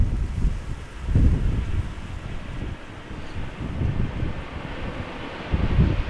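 Wind gusting across an outdoor live camera spot near Amsterdam Schiphol Airport, a continuous low buffeting rumble that swells and eases in uneven gusts, close on the microphone with no voices.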